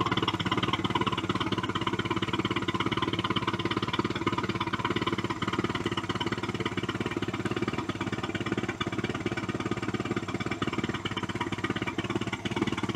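A 1973 Larson Mercruiser 120hp boat engine, its fuel line unhooked from the tank, runs continuously with a fast, rough, chattering idle, loud and close throughout.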